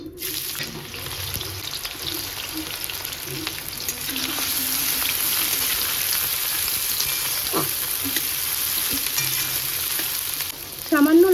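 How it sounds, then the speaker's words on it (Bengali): Onions frying in hot oil for a home-cooked biryani give a steady, close sizzle that runs throughout, with soft stirring and brief kitchen clatter near the end. "তেল গরম হয়ে গেছে এবার আমি পেঁয়াজগুলো ভেজে নেব"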